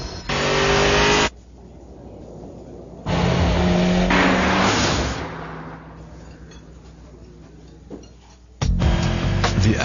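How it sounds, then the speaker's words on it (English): Acura RSX Type S sports car with a 210-horsepower engine in a TV commercial, its engine loudly revving and roaring in several bursts separated by quieter gaps, with no speech. "The Acura RSX Type S, now with 210 horsepower. You'll know it when you hear it."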